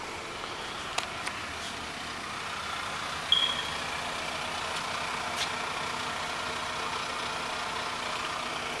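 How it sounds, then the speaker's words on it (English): A 1999 Toyota Camry CE engine idles quietly and evenly, a soft steady hum heard from outside the car, broken by a few faint clicks and one brief sharp tick, with no talking. "Let's step out and listen to the motor."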